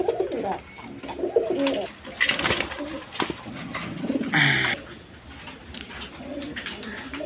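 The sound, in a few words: pigeons cooing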